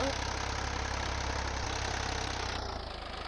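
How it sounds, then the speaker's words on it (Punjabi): A low, droning tractor engine in Farming Simulator 22, a Ford 3600 mod, idles steadily with a heavy rumble and slight knocking texture, continuous throughout and fairly loud. "ਵਾਜ ਚੈੱਕ ਕਰੋ ਯਾਰ ਤੁਸੀਂ ਟਰੈਕਟਰ ਤੁਰੇ ਭਾਵੇਂ ਨਾ ਤੁਰੇ ਵਾਜ ਚੈੱਕ ਕਰੋ"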